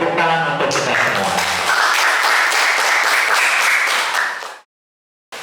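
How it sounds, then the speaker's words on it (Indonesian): Vocational automotive engineering students applaud in a classroom during a teaching assessment; a brief voice gives way to sustained, loud, even clapping that cuts off abruptly into silence near the end. "Tepuk tangan untuk kita semua."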